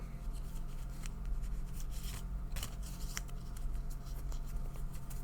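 Tarot cards are shuffled close by in soft, rapid riffles and slides, a quiet papery rustling that continues steadily.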